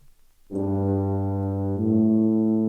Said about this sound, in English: If we do the BBC Symphony Orchestra and we give it a tuba